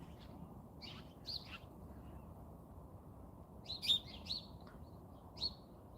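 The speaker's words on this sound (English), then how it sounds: "Birds are singing for you." Birds sing outdoors in short, bright chirping phrases: a couple early on, then a livelier cluster near the end, fairly faint over a steady low background hum.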